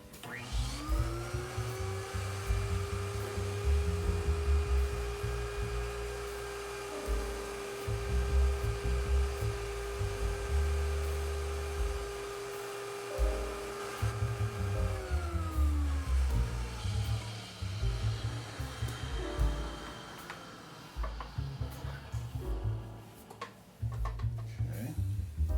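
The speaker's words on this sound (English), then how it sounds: "We just want to get whatever dirt was dislodged up into that sudsy goodness, and then suck it right off." A record-cleaning vacuum draws sudsy cleaning fluid off a vinyl record, giving a steady droning whine that runs for about fifteen seconds and then winds down, with clicks and handling noises around it.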